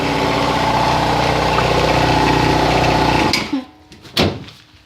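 A running air compressor drones loudly and steadily at close range, then cuts off abruptly, leaving a few clunks and knocks as it winds down.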